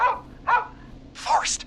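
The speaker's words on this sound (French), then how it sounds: "Et c'est le chien qu'on a entendu tout à l'heure" Dog in the video game Killer Frequency gives three short barks or yips, the last one rising into a higher whine, with a voice calling out briefly.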